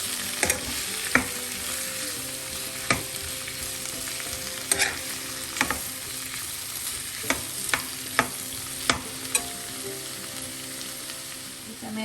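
Breadfruit pieces stir-fried and mixed in a pan for a Kerala-style thoran, a steady sizzle broken by repeated sharp scrapes and clacks of the spoon against the pan, close and clear with no talking.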